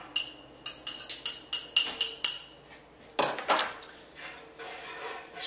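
Metal spoon stirring basil into garlic in a pot for vodka sauce, a quick run of sharp clinks against the pot followed by softer scraping and sporadic knocks, close and alone.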